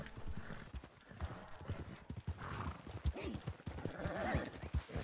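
Horse galloping in the online mode of the video game Red Dead Redemption 2, with rapid, steady clip-clop hoofbeats throughout, close and fairly loud, and brief whinnying breaking in.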